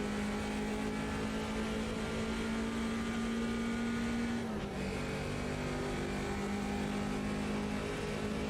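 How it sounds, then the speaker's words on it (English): A BMW 2002 Turbo engine in the Automobilista 2 racing game at Hockenheim, 1977 layout, drones steadily and loudly at high revs, with a brief dip like a gear change near the middle before holding a slightly lower tone, with no talk. "Car sounds good."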